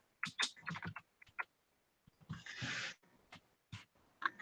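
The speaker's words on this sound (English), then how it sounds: "I'm typing to Gerald right now." Bursts of clicking keystrokes in quick irregular runs, with pauses between, close by and fairly quiet, plus a brief rushing noise midway.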